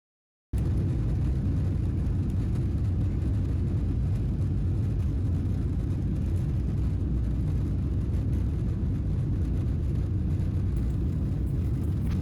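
A steady, loud low rumble of an airliner's takeoff roll heard from inside the cabin, engine roar and airframe noise holding constant throughout with no talk.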